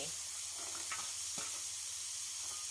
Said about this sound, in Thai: ส่วนอันนี้ก็จะเป็นถั่วฝักยาวนะคะ เราก็จะใส่แบบนี้เลย